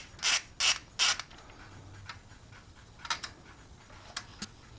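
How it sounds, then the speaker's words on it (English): A ratchet clicks on the bolt in an Evo 8 camshaft, with three loud close bursts of clicking followed by softer, scattered ticks and small mechanical clatter. "next thing you want to do is remove the bolt going straight into your camshaft"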